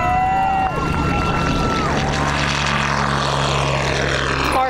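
Propeller airplane built by high school aviation students, its engine droning loud and steady throughout with a whining pitch that glides downward, heavy wind buffeting on the microphone and no clear talk.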